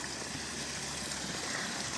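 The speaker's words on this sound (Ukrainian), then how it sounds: "Тут водоспад біля Карпат працює." Waterfall near the Karpaty sanatorium in Truskavets, a faint, steady rush of falling water heard at a distance with no voices.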